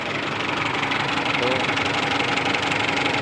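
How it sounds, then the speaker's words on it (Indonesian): A used diesel car engine idling smoothly with a steady, even running hum and no stumbling, heard close up while someone speaks briefly over it. "Di mesin halus ya, mesin tidak pincang."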